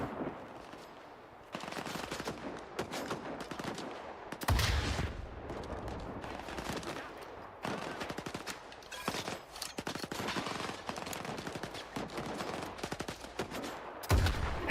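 Rapid bursts of automatic gunfire in S.T.A.L.K.E.R. 2, loud sustained volleys of shots broken by brief pauses, with a few heavier cracks standing out over the steady rattle.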